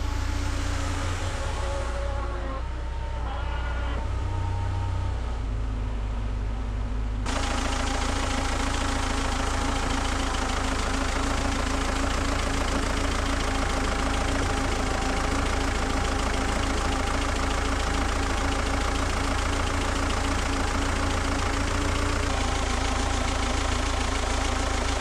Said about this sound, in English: Means I gotta pull with the tractor.